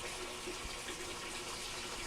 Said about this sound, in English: It'll fill up fastest on the warm because both valves are going.